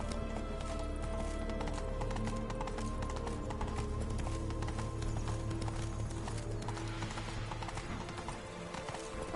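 Horse hooves galloping in The Witcher 3, a fast, steady clip-clop rhythm that runs throughout over game ambience, with no talking.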